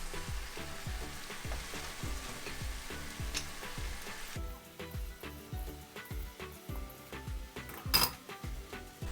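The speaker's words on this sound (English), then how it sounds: "As the spinach starts to wilt, go ahead and add more spinach to the pan by handfuls." Handfuls of spinach wilt and cook in a pan for a dry spinach curry, a low sizzle with occasional utensil clinks under rhythmic background music.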